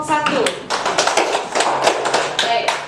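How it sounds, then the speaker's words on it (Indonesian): Classroom students clapping for a presenting group, quick uneven hand claps from several people at close range, mixed with voices talking over them. "mari kita tepuk tangan untuk kelompok 1"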